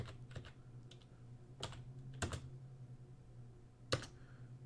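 Keystrokes on a computer keyboard while entering a variable name in the Unity editor, several sharp separate clicks spaced irregularly, close by over a steady low hum.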